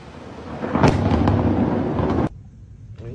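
A violent lightning strike sets off a powerful explosion, heard as a loud, sustained roaring blast with a sharp crack near the start, ending abruptly and leaving a quieter rumble.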